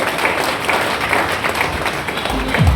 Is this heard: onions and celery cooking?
no